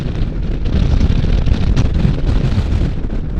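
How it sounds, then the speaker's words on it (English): Strong wind roars and buffets steadily across the whole recording while riding a Can-Am Spyder, a loud, constant rumble with gusty flutter. "It's extremely windy, and the wind grabbed my helmet."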